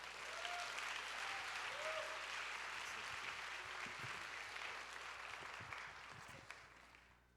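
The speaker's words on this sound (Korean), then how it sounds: "우리 지금 큰 박수로 모시도록 하겠습니다." A church youth service congregation applauding to welcome the senior pastor, sustained faint clapping from a roomful of people that slowly fades, with a few brief voices underneath.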